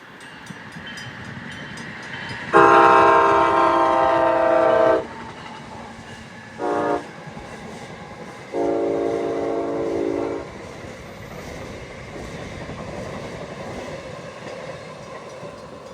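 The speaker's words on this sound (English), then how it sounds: "Our first eastbound train is a Northeast Regional led by ACS 64, number 615." An Amtrak Northeast Regional passenger train led by an ACS-64 electric locomotive passes eastbound with loud horn blasts, two long and one short, over a steady rumble of rolling wheels on track.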